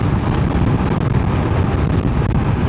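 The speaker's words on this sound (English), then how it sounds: "The wind's just kicked up." Loud, steady wind roar rushes over a rider on a Triumph Tiger 1200 Rally Explorer motorcycle heading down toward Laughlin, Nevada, a dense unbroken buffeting that fills the whole moment with no voices.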